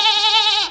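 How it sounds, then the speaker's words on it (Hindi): A single goat in a forest gives one loud, close, wavering bleat that lasts under a second and then breaks off. "वो देखो जंगल में कोई बकरी चरा रहा है और साथ में बच्चे भी हैं उसके"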